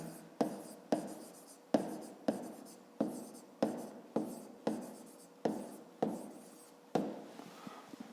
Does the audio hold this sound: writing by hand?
yes